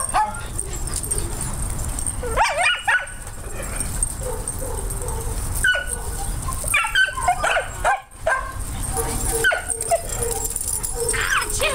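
A dog fusses at length, mixing short barks, yips and high whimpering whines in uneven bursts close to the microphone, while someone talks soothingly over it.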